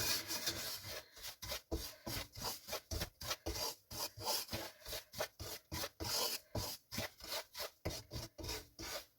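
A spoon scrapes and stirs semolina (rava) as it roasts in a pan for coconut rava urundai, a close, rhythmic gritty rasping in repeated strokes, fairly quiet and with no talking.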